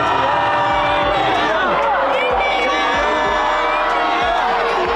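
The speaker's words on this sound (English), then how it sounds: "draws large crowds cheering for their respective nations" Large crowds at the Wagah border flag-lowering ceremony between India and Pakistan cheer and shout in a loud, dense, continuous roar, with piercing whoops and whistles rising above the din.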